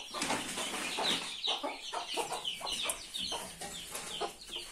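A hen clucks repeatedly in a village yard, with chicks nearby after a fight; short, close, irregular clucks and chirps come in quick bursts with no talking.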